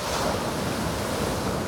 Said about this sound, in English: hopefully the waves will get bigger here. They're starting to come up a little bit.